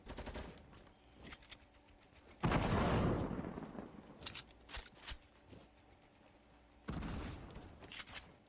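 Fortnite gunfire, heard faintly in the distance in bursts: scattered quiet shots, then a loud rattling volley, a lull of sparse pops and a second heavy burst.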